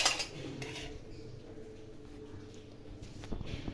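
Plates and spoons being handled in a home kitchen, producing faint clinks and ceramic taps, with the sharpest knock at the start and a few soft clatters afterward.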